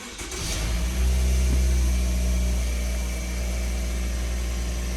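A Toyota Noah engine on a cold start at about 10 °C oil temperature, settling into a loud, steady idle with a constant low drone and no talking.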